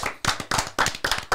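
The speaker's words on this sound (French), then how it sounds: "des applaudissements." A few people clap in short bursts of three or four quick, sharp claps each, close and fairly loud, with a brief cheer mixed in, celebrating a new webtoon editor on a French talk show.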